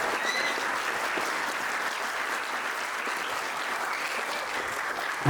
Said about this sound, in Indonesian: Yang paling meriah boleh tepuk tangan kembali